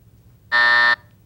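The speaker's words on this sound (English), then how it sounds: "that is the buzzer that signals the end of round" A quiz show buzzer at a high school competition blares once, a loud steady electronic tone lasting about half a second against quiet room noise, marking the end of a round.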